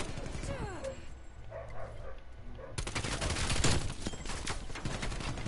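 Rapid automatic gunfire from an AK74u in Black Ops Cold War, starting at moderate level and then erupting into a loud, dense burst of shots with a dog barking now and then underneath.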